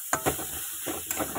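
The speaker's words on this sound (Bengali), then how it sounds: "এই দেখো মশলাটা পুরো আমি দিয়ে দেবো। এটাকে ভেজে নেবো ভালো করে" Spice paste frying in a pan, a soft steady sizzle broken by a few light stirring scrapes close by.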